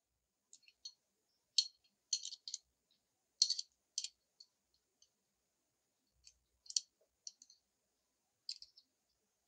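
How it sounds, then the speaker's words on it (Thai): Faint, sparse metallic clicks and small taps come as an STI Apeiro .45 ACP pistol is put together, its barrel and guide rod slid into place. The quiet handling noises are irregular, with silence between them. "เริ่มจากใส่ลำกล้องเข้าไปก่อนนะครับ"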